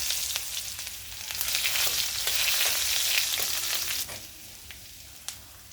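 Finely chopped onion hisses in hot mustard oil in a wok, a steady close sizzle broken by stirring scrapes that eases off toward the end, with a few sharp ticks.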